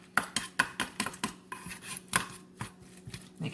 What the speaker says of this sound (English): and then stir that up